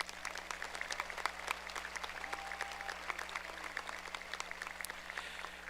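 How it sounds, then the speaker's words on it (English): A large crowd at a high school graduation, Parkersburg High School 2024, claps steadily, heard faint and distant as a dense, even patter throughout. "Let's give them one more round of applause."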